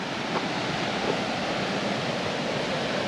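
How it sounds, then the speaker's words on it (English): Water rushes steadily at the head of Copper Falls in a northwestern Wisconsin state park, a dense broadband roar that holds constant and loud throughout with no talk. "Here we are alongside of the head of the falls."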